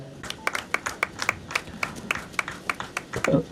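An audience at an award ceremony claps for a recipient, a moderate, evenly spaced burst of applause that swells slightly at the end.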